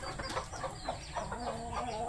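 Backyard chickens cluck repeatedly in short, overlapping bursts at close range, with a steady low background rumble underneath and no talking.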